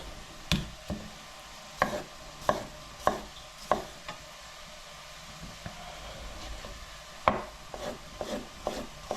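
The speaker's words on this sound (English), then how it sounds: "but I'm going to slice it up" A knife slicing an ingredient for Hungarian mushroom soup in a home kitchen, with about a dozen crisp, fairly even taps on a cutting board over a low background hiss and no talking.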